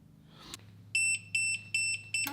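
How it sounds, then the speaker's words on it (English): Four short, evenly spaced high-pitched electronic beeps from a torque wrench set to 60 foot-pounds, working on a Mitsubishi Evo 9, sound in a steady rhythm over a low mechanical hum, close and clear. "Beeps were the warning when you're getting close, and then the vibration was torqued"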